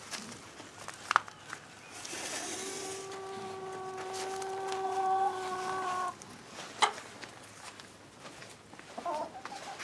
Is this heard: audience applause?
no